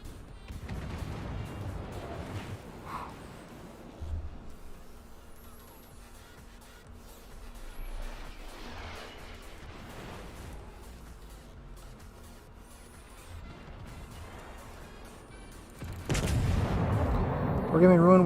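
Naval gunfire and incoming shell hits in a World of Warships battle involving an Alaska cruiser, with dull booms and rumbling impacts under a steady game backdrop, swelling into a louder blast near the end.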